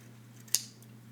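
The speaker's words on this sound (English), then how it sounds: "snip out all of the other colours" A single sharp snip of scissors cutting through a paper colour swatch chart of marker samples, one quick close cut over a steady low background hum.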